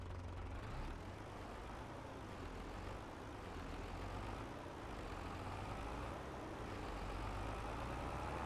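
A tractor engine in the farming game Farming Simulator 22 drones steadily with a low, continuous rumble that holds an even level throughout, with no talk over it.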